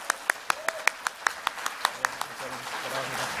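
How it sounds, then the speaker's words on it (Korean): At a Korean church revival meeting the congregation claps to welcome the guest preacher to the pulpit, a fairly even run of about a dozen sharp claps that fades into murmuring voices and talk near the end. "우리 데니엘 이모 목사님 나오실 때 강단에 올라서 서실 때까지 힘차게 한번 박수로 환영하겠습니다."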